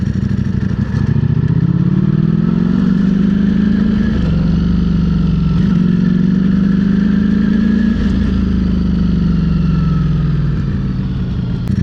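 Ducati Streetfighter V4 SP motorcycle being ridden, its engine droning loud and steady with rising and falling revs over a bumpy road, plus occasional clunks from gear changes, with no voices.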